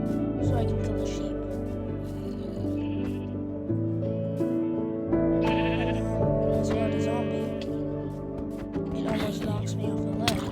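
Sheep in the Minecraft video game bleat several times across a running stretch of game audio, with repeated wavering cries over steady background music and a voice talking throughout.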